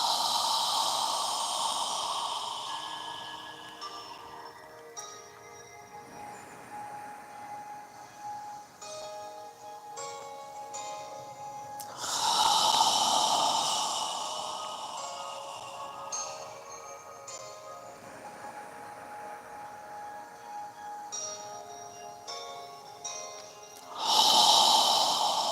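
Slow yoga breathing through the mouth, long airy exhales and inhales in a calm rhythm, close and clear, with several swelling breaths rising and fading across the stretch and no talk over them.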